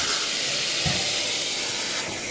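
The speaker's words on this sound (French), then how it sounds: "On envoie la vapeur." A Lady Vap steam cleaner blasts steam onto a window pane, a loud continuous hiss that holds steady for a couple of seconds with a brief low thump partway through.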